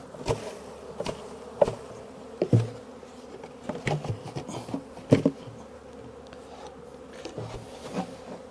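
A steady drone of many honey bees buzzing around a hive nearby, with individual insects zipping close past the microphone now and then.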